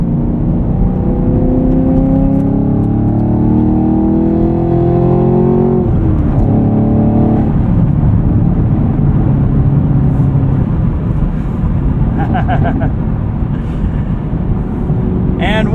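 A 2023 Chevrolet Camaro SS 1LE with a manual gearbox drives on the road, its engine and road noise droning steadily inside the cabin, with a brief pitch change around a gear shift.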